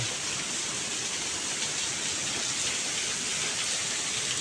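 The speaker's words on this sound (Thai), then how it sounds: "แล้วก็เป็นน้ำตก" Water from a waterfall inside a cave rushes in a constant, even hiss, close and fairly loud, with no talking over it.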